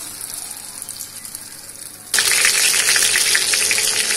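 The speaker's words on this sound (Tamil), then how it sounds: "இப்போ இந்த சிக்கன் லெக் பீஸ் வந்து நல்லா ஃப்ரை ஆயிடுச்சு." Chicken leg pieces fry in oil in a kadai, a loud, dense, crackling sizzle that bursts in suddenly partway through after a quieter stretch and then holds steady, close and alone.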